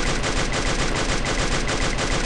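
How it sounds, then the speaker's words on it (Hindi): Rapid automatic gunfire in the video game Garena Free Fire rattles continuously and loudly, with evenly spaced shots throughout and no talking. "जहाँ गोली चला रहा हूँ"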